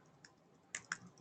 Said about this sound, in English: So I'm typing on my other screen here.